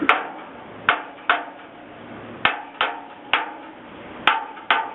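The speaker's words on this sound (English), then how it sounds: "as I do the hammer test" Sharp metallic hammer taps ring out one by one on a steel fire escape at an uneven pace, eight blows in a few seconds, each with a short clanging decay.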